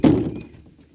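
Snow knocked off a solar panel lands with a single dull thunk at the start, then a short fading rumble of settling snow.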